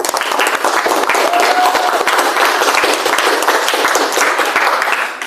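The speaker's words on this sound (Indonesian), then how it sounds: "Sebelumnya Pak Guru harapkan untuk memberikan aplaus untuk kita semua." A classroom full of students applauds after group presentations, a dense sustained clapping that stays loud and even from start to finish, with a few voices mixed in.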